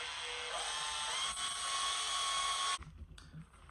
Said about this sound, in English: with the long drill bit, drill the water holes